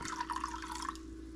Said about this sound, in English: I'm just gonna add a little bit of cold water to it